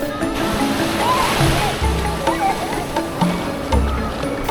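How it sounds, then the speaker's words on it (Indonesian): Sea waves breaking and washing onto the white-sand beach at Pantai Sepanjang in Gunung Kidul, a continuous rushing surf with recurring low swells, loud and close, with faint voices of visitors in the background. "Di sini terlihat ombak datang silih berganti."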